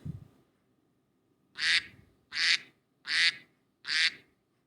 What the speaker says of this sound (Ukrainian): Хто так говорить? Правильно, це качка.